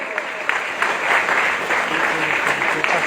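Sustained applause from an event audience at a network marketing gathering in Vishnugarh block, steady dense clapping with a few louder claps standing out, continuing throughout.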